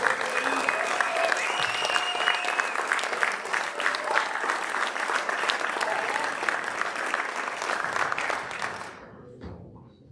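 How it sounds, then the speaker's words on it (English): A crowd at a sports banquet and awards night applauds loudly and steadily for several seconds, with occasional cheers mixed in, before the clapping fades out near the end. "One more round of applause."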